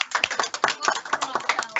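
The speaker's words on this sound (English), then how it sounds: "give them a round of applause" School assembly audience clapping for the Lion Class, a brisk run of separate hand claps in an uneven patter, fairly close, with voices speaking over them.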